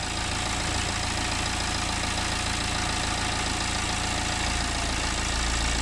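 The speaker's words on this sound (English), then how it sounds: "You can hear the engine note changing." A BMW engine idles while its EGR valve is vacuum-tested, a loud, steady mechanical drone with a low pulsing note that shifts slightly near the end, heard up close without talk.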